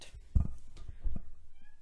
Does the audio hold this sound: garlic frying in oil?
no